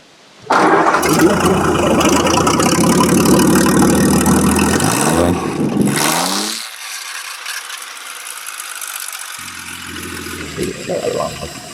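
A vintage engine fitted with a custom 6-inch exhaust cranks and fires with a sudden loud roar, runs rough and rattly for several seconds, then drops abruptly to a quieter, uneven idle.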